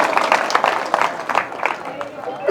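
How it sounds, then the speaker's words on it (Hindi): An audience applauds in welcome at a public gathering, with dense, steady clapping filling the space at moderate loudness throughout. "जोरदार तालियों से स्वागत कीजिए साथियों।"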